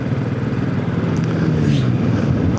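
A Royal Enfield Classic 500 EFI motorcycle rides along a road, its engine a steady, loud, low thumping drone with a slight pitch dip and rise, wind rushing over it.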